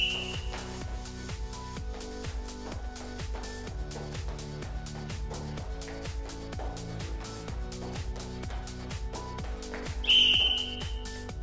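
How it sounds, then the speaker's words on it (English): A referee's whistle blows once near the end of a timed roller derby fitness test, a short shrill blast over a background of steady rhythmic music. "before the whistle went"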